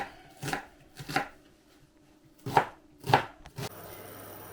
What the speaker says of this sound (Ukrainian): ми наріжемо цибулю, як зазвичай на засмажку мілесенько, міленьким кубиком